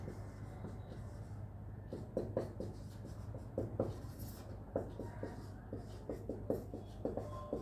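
Chalk or marker strokes on a board during a Hindi-language physics lecture on electric charge and fields, a steady run of short scratchy taps and scrapes at moderate level over a constant low hum, with no voice.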